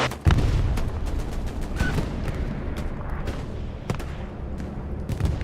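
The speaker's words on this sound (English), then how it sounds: "that's a mistimed bombing run from the 6th. Gonna kill a bunch of their players" Mistimed bombing-run explosions in the WWII shooter Hell Let Loose, heard as a continuous rumbling barrage of distant booms and gunfire cracks, with sharper blasts punctuating the roar throughout.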